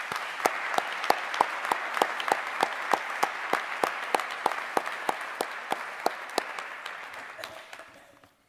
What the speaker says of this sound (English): I would ask that we give him a round of applause